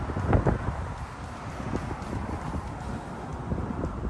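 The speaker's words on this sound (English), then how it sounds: "today is super windy" Strong gusts blow outdoors on a walk near waves, a steady broadband rush buffeting the microphone throughout, with a heavier thump of wind noise early on.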